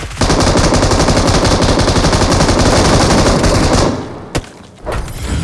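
Rapid automatic gunfire from an AKM rifle in the mobile game BGMI, a loud continuous burst lasting several seconds before stopping, followed by a couple of isolated shots.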